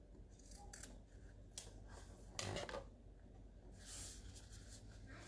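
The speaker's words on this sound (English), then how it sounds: "So we'll trim that corner." Scissors snip through the corner of fabric on a tote bag being sewn, a few quick close cuts with soft rustling between them.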